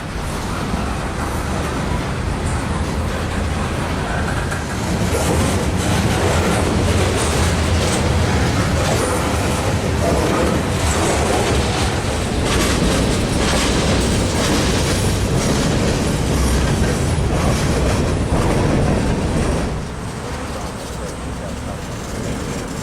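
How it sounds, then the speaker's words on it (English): A heavy Norfolk Southern freight train rumbles steadily past at low speed on the main line in Atlanta, slowing to a stop, with a dense low-end roar, faint rail clatter and some voices in the background. "You can see train 124 on the main line slowly coming to a stop"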